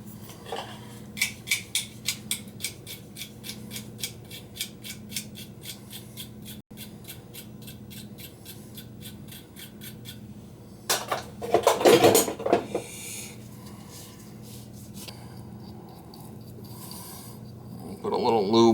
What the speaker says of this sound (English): to clean them with a wire brush